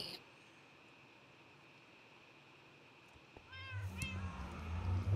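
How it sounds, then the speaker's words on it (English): Video game cats meowing inside a Mayan pyramid in a jungle, a few rising meows near the middle followed by louder, busier cat calls over a faint steady hiss. "You can hear my cats. I've got a few inside."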